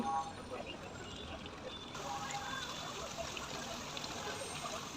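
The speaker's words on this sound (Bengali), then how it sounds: "দিয়ে দিব দেড় কাপ পরিমাণ তরল দুধ" Liquid milk pours steadily into a pot of chicken roast, a soft continuous trickle and splash close by, with faint kitchen background.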